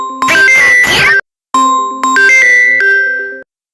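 A phone ringtone for an incoming call plays alone and loud, as a bright melodic tone sequence in two bursts separated by a short pause.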